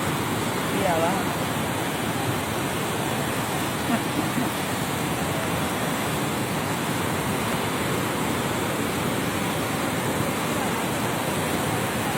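Floodwater overflowing at Kyet Mauk Taung rushes with churning waves, a loud, dense, unbroken roar that fills all twelve seconds, with faint voices barely surfacing in the background.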